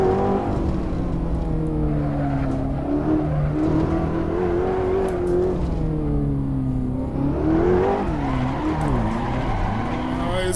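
A Ferrari 488 GTB in the Assetto Corsa racing game drifts on a Spanish hillclimb course, its engine droning loudly and steadily with shifting pitch while the tires squeal continuously throughout.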